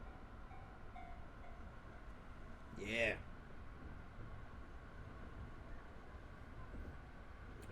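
A train rumbles steadily in the video game Train Drive ATS, a low continuous running drone with a brief swelling sound near the middle, while someone talks quietly over it.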